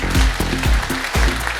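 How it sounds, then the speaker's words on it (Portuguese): Steady applause from a conference audience rewards a speaker after a talk on ASME VIII and boilers. The clapping is close and dense, with a voice speaking over it. "Mais uma salva de palmas, senhor Antônio Carlos"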